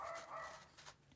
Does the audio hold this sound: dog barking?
yes